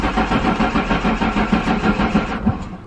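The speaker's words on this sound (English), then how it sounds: "All right, let's try and turn this thing on." A car engine is cranked over in steady repeated pulses, loud and close, without catching cleanly before it drops off near the end.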